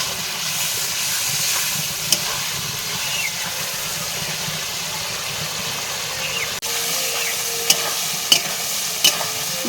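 Prawns fry with a cooked-down spice paste in a pan, a loud, steady sizzle and hiss that runs throughout, dotted with occasional sharp clicks and utensil taps.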